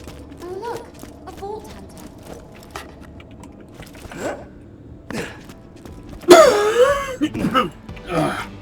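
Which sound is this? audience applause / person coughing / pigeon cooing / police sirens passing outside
person coughing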